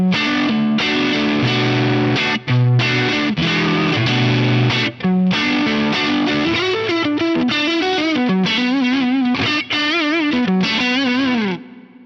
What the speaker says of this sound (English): I'm using the Brit JM45, one of my own free cabinet IRs, and I'm using the large plate reverb.